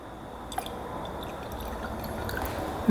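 Gasoline dripping and trickling out of the carburetor on a rare Russian military motorcycle, faint irregular drips and wet ticks over a quiet steady background, close by.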